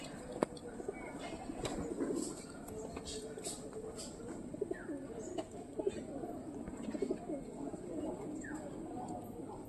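Breeding pigeons, high-flying and racer birds, coo steadily in a loft, with soft overlapping calls and flutters close by under faint background voices.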